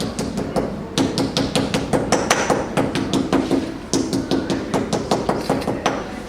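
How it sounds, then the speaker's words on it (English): A hammer pounds wet papyrus slices to press the water out, a steady run of quick, fairly close thuds and taps that keeps going throughout with brief pauses. "We have to get the water out using the hammer"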